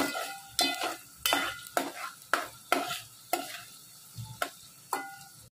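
An ingredient is stirred around a hot pan in about ten distinct scraping strokes with a spatula, each one sharp and close. A light frying sizzle sits underneath them. No one speaks.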